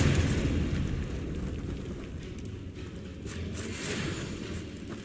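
A Confringo spell explodes in the Hogwarts Legacy video game, a deep rumbling blast with a long, noisy, crackling decay that swells again briefly near the end, with no voices.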